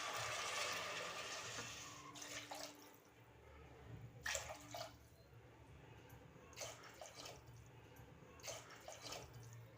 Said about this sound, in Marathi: आता इथे पाणी घालायचं आहे